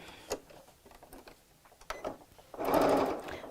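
A sewing machine stitches fabric for a tote or beach bag. Quiet handling clicks and taps come first, then a short, close burst of fast, rattling stitching near the end.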